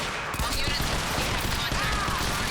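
Rapid gunfire from the video game Quantum Break, a dense sustained burst of shots with mechanical clatter filling the whole moment at close range.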